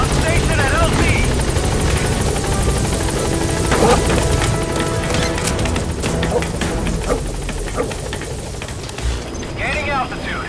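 The Pequod helicopter hovering at a landing zone in Metal Gear Solid V, a loud continuous rotor and engine roar with thumping blades, heard under radio voice chatter.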